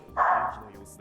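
A small dog gives a single short, loud bark that trails off quickly, with a voice talking faintly underneath.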